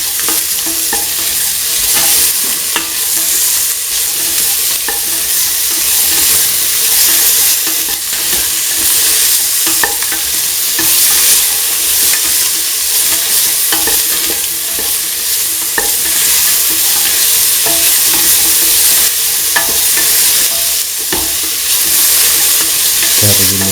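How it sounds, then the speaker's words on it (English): Salt being stirred into potato and ivy gourd in a hot pan, a steady scraping and sizzling that continues loudly throughout with frequent small clinks of the spoon against the pan. "thoroughly mixing salt with the ingredients."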